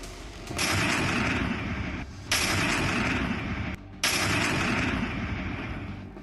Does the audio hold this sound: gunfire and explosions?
yes